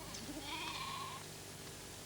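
A single Faroese sheep on the Faroe Islands gives a short, faint wavering bleat at a distance, set against a steady outdoor background.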